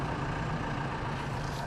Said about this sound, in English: Bleh, traffic.